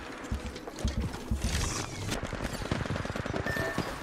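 Rapid automatic gunfire striking a player in Apex Legends Mobile, dense bursts of shots at moderate distance running throughout under game ambience.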